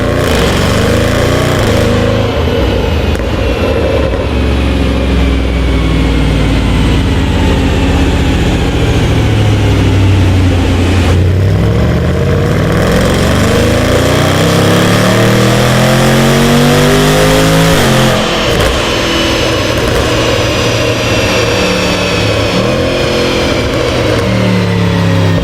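Remapped Jaguar F-Pace SVR with a 200-cell catalytic converter upgrade, revving hard on a dyno: a loud, sustained roar whose pitch sweeps up through the gears in repeated climbs, with brief drops at the shifts and no talk.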